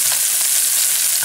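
Cod basting in brown butter with thyme in a frying pan, a steady close sizzle and spatter of hot fat that holds evenly for a short moment with no voices.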